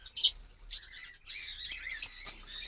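Cockatiels in a breeding box give short, bright chirps and squawks, first a couple of isolated calls and then a quick run of repeated notes, close and fairly clear.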